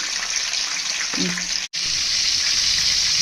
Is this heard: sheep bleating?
no